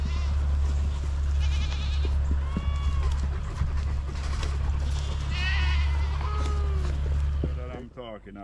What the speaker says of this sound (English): Yeah, that's my flocks of goat coming in.